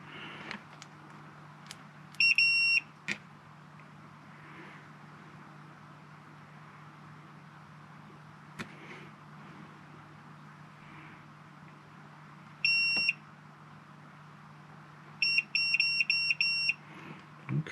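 A multimeter in continuity mode beeps while a numpad build is being tested: short, bright electronic tones in brief clusters over a low steady hum, with sharp clicks between them and no talk.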